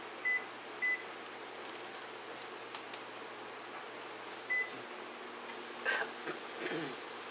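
A low, steady microwave hum runs throughout, broken by a few short electronic beeps and faint clicks.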